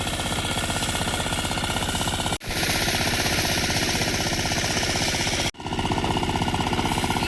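Motor-driven rice paddy threshing machine running steadily and loudly, a dense continuous rattling drone with two brief dips where the load drops out for a split second before resuming.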